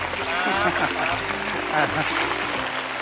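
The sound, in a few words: small natural waterfall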